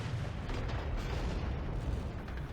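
Distant tank cannon fire in the game Tank Company, fought from a T-34-85, comes as dull low booms over a steady battlefield rumble, with no clear sharp report standing out.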